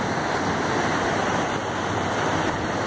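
The swollen San Diego River rushing after heavy rain, a loud, continuous roar of churning water mixed with wind buffeting the microphone.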